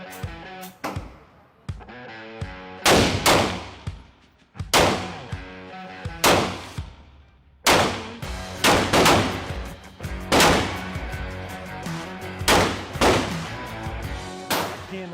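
Gunshots from a 9mm Springfield XD pistol with a 4.5-inch barrel ring out loud and close, a string of sharp single reports at uneven intervals, each trailing into a brief echo.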